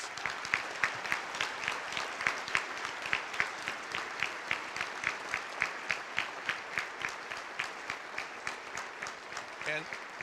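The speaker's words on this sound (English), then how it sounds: "Let's give them a round of applause." Audience at a high school Veterans Day ceremony applauding veterans standing in the room, a moderate, even patter of clapping with steady rhythmic claps running throughout, heard from within the crowd.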